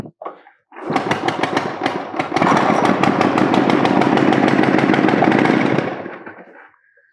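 A 1927 Indian Scout motorcycle engine runs too fast on a sticky throttle, firing in a rapid, loud, close staccato of pops that builds quickly and then dies away.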